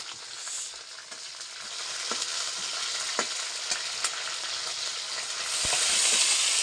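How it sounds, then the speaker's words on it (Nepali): Red hornets dry-frying in a pan make a steady, close crackling sizzle with scattered sharp pops and scraping stirs, growing louder toward the end, with no talk. "माउलाई चाहिँ यसरी भुटेको छौँ है पहिला यसरी भुट्नुपर्छ"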